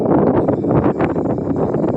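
Strong wind buffeting the microphone at a mountain campsite, a steady loud roar with gusting surges throughout, no voices.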